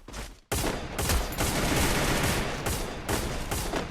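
Dense, continuous gunfire from the mobile battle-royale game Free Fire, including sniper shots, loud and close, nearly four seconds of unbroken rattling bursts after a brief opening pause, with no talk.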